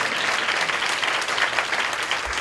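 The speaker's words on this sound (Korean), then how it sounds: "우리 그렇게 놀랍게 역사하실 주님 앞에 감사와 찬양의 박수 올려드리겠습니다." A church congregation applauds in thanks and praise during a youth service, a dense, steady wash of many hands clapping that fills the room without a break.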